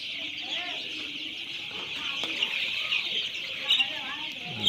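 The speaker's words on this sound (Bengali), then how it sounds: "মুরগি এখন খাবার ও পানি খাচ্ছে" Chickens in a poultry farm shed eating feed and drinking water in hot weather, a constant chorus of chirps and clucks from many birds, moderately loud and unbroken, with occasional louder calls.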